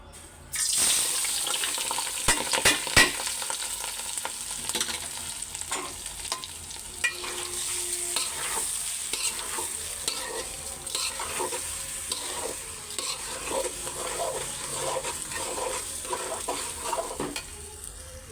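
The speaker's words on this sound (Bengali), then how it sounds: "তো চাইলগুলি আমি আগে ভাজা দিয়ে নেই সুন্দর করে" Steady sizzling and crackling of rice grains frying in hot oil, with scraping and stirring sounds throughout, close and fairly loud, no talking.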